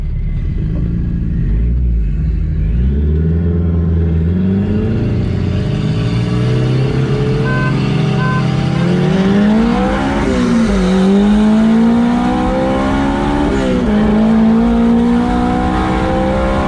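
Turbocharged Honda S2000 and a 2JZ-swapped Lexus GS300 running extra boost street racing, with loud engines revving and accelerating hard through rising gear pulls, a steady roaring rumble throughout and brief tire squeal.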